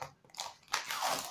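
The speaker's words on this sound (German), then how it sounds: "das Klebeband, das zieht sich ja wie Kaugummi" Packing tape peels off a parcel, stretching and sticking like chewing gum, giving a faint crackly rip that starts softly, pauses, then comes back louder and longer as the tape pulls free.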